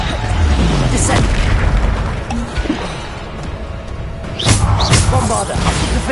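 Bombarda spell blasts in the Hogwarts Legacy video game, heavy booming thuds that swell at the start and again near the end over a constant rumbling battle din, with voices in the background.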